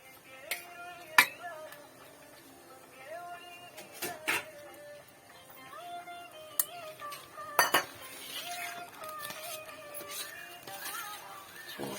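A ladle stirs flattened rice (aval) dough in hot water in a metal pot, with scraping and sharp clinks against the sides at an irregular rhythm, close and fairly quiet.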